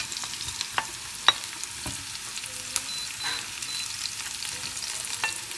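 Onions and other vegetables fry in a pan with a steady, soft sizzle and crackle, broken by occasional sharp pops and spatters; close and moderately quiet, with no voices.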